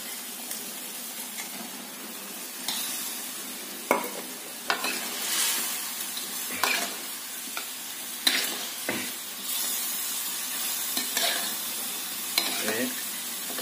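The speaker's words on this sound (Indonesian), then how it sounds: "Jika sudah, kita masukkan ikannya." Fish frying in a pan for a sour basil pindang dish, with a soft steady sizzle broken by repeated scraping stirs of a utensil against the pan, fairly quiet and close.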